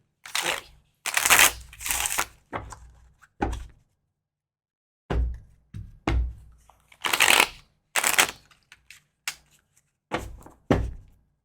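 A deck of tarot cards is shuffled for a reading in repeated riffling bursts, close and crisp, separated by short pauses and a few soft taps.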